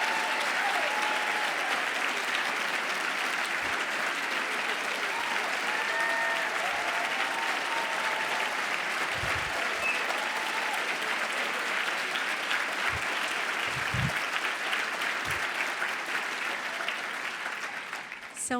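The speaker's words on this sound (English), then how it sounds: "Can we give a round of applause for all of our 10 big ideas?" A large audience at an opening session of a health ideas festival gives a sustained round of applause, dense and steady, with scattered whoops and a few low thumps, tapering slightly at the end.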